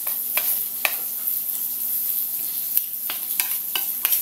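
Tokwa sisig fries in a pan with liver spread, a bright steady sizzle over which a spatula scrapes and taps the pan in irregular strokes.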